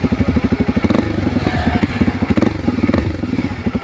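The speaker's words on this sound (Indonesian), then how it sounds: "Satu silinder, agak serak-serak, basah ya suaranya." A Kawasaki Ninja 250 RR Mono single-cylinder engine with stock exhaust runs close by, giving a throaty, pulsing thump that swells briefly as it is revved and then settles back. No one talks.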